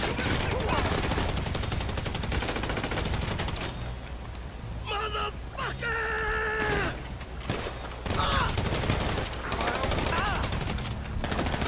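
Game gunfire in GTA rattles continuously in dense, loud volleys, with machine-gun-like bursts and impacts, while people talk and electronic beeps sound over the shooting.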